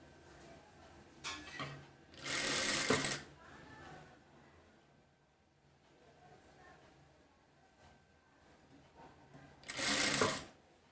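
A sewing machine stitches cowl sleeves for an umbrella frock in two short, loud whirring bursts separated by a long quiet stretch, with faint handling noise in between.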